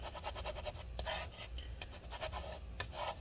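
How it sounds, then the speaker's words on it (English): A scraper tool working adhesive residue out of the inside of a 13-inch Retina MacBook Pro A1502 from early 2015, heard as close, quiet, repeated rasping strokes in an uneven rhythm, with no voice. "just keep doing that and scraping out all this adhesive residue"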